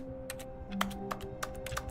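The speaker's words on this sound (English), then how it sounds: "I'm just clicking." Rapid, light clicks on a computer keyboard, a close, crisp patter of uneven keystrokes over a faint steady hum, with no talking.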